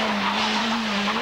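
A bright yellow 1996 Renault Clio Williams rally car skids at the Rally Città di Saluzzo in Italy, a loud, brief tire scrub over a steady engine drone.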